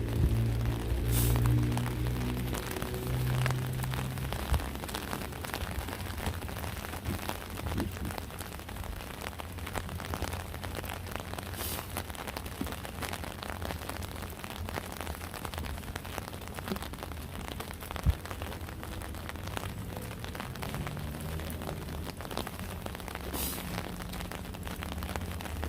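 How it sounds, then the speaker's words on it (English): Steady rain falls outdoors in Philadelphia during a live stream, a continuous even patter of drops on surfaces with a low hum underneath, no talking. "I don't got no problem with the rain."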